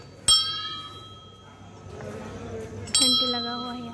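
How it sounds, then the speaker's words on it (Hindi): Two sharp bell strikes with bright lingering rings, the second about three seconds after the first, at a lime-road restaurant in Nashik at night, over a low murmur of background voices. "घंटी लगा हुआ है यहाँ पर"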